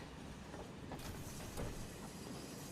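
Train carriage rolling on rails in the video game Final Fantasy VII Remake, a steady low rumble with faint rhythmic clatter, moderately quiet and without talk.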